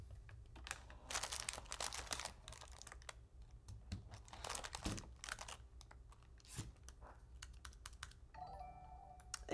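Keys clatter on a computer keyboard in bursts of quick typing separated by short pauses, close and fairly quiet, with faint clicking near the end and no talking.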